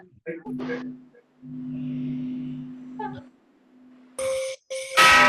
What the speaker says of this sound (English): you're ringing your bells